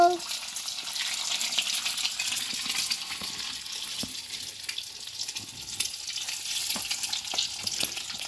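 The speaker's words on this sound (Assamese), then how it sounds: "ডিমকেইটা ফ্ৰাই কৰিলো।" Eggs frying in a pan give a steady, close hiss and sizzle that runs throughout, with a few faint clinks and taps from utensils over it.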